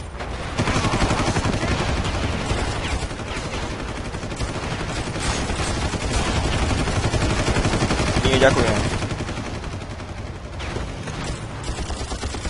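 Gunfire rattles in the video game Far Cry as dense, continuous bursts of rapid shots, close and loud, with someone talking over the shooting.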